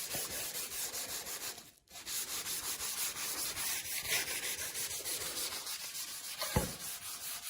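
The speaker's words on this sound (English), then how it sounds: "You can take your shavings and then you can burnish the surface." Wood surface being burnished by hand with a bundle of plane shavings, a steady continuous rubbing and scraping hiss lasting throughout, with one short pause and a brief knock near the end.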